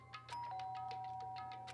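A synthetic electronic doorbell chime in Danganronpa rings a short series of tones over a low steady hum, fairly quiet.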